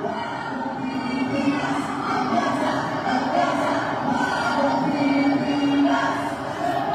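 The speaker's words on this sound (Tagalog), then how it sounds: "matindi yung crowd." A large rally crowd roars continuously, a dense, sustained wall of cheering and voices at steady loudness throughout.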